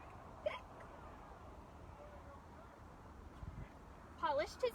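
A voice imitates a skeleton's hiccups during a spoken children's story, with a short hic near the start and a quick cluster of squeaky hiccup sounds near the end, faint and close.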